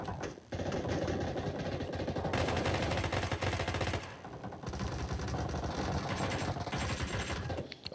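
Rapid bursts of automatic gunfire from the mobile battle royale game PUBG Mobile, loud and dense, firing almost continuously with short pauses around half a second and four seconds in.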